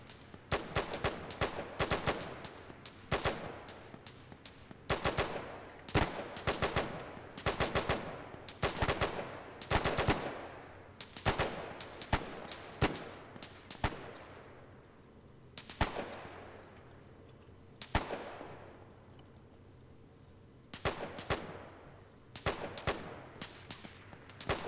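WW2 battlefield gunfire in ARMA 3's Faces of War mod: repeated sharp rifle and machine-gun shots, some close and loud, others distant with long echoing tails, in irregular bursts throughout.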